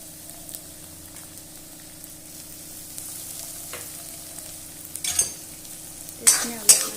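Onion, ginger and garlic fry in a pan with a low, steady sizzle, joined near the end by a few scraping stirs of a spoon against the metal.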